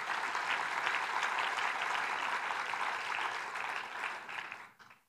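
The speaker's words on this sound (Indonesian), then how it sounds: "Kita berikan tepuk tangan bagi Tuhan kita." A church congregation applauds in praise of God during a sermon. Dense, even clapping fills the room for several seconds and then thins out and stops near the end.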